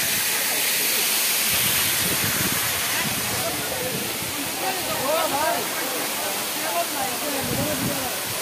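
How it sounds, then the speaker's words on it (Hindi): Saika waterfall flowing, a broad steady rushing hiss of falling water filling the whole stretch, with a person's voice audible faintly over it. "ये था साइका वाटरफॉल आपके लिए एक सिनेमेटिक व्यू।"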